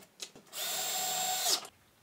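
Power drill driving bolts into the plate of an Espar Airtronic S2 D2L diesel heater in a campervan, heard as a short close whir that rises and stops after about a second, no talking.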